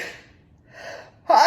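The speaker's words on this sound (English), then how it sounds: "I have to sneeze, excuse me." A single sharp sneeze at the end, preceded by a couple of quick sharp inhalations building up to it, close to the microphone.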